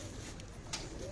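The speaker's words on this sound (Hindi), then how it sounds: "ये देखो चपड़े और दैयड़ कबूतर" Soft cooing from chapde and daiyad pigeons on a rooftop, a couple of brief low calls over a quiet background hiss.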